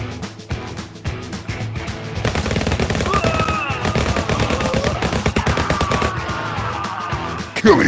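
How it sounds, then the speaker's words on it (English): Two .45 caliber revolvers firing in the VR shooter Guns'n'Stories: Bulletproof, a loud, rapid, nonstop barrage of shots that rattles on like machine-gun fire, ending with a final burst. "Dad, could revolvers really shoot like this?"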